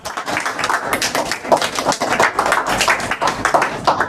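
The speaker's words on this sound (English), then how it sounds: "First of all, give them a big round of applause." An audience at an institute anniversary and innovator day celebration claps for a student group, a dense and steady round of applause that runs loud and close throughout.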